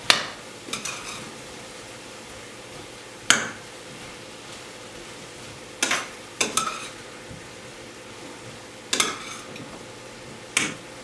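Aloo gobi with turmeric cooking in a pan, a quiet low sizzle broken by sharp, irregular clacks of a spoon stirring against the pan, spaced a few seconds apart.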